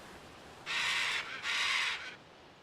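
A tamed bird creature in ARK Survival Evolved gives two harsh, raspy caw-like calls in quick succession, each about half a second long, loud against a faint background hiss.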